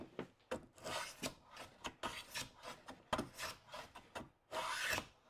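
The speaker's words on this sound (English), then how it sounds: "just rub a candle, backwards and forwards over stuff" Candle wax rubbed back and forth over a wooden hand plane made from pallet wood, a series of dry scraping strokes in a steady push-pull rhythm, close and clear with no voice.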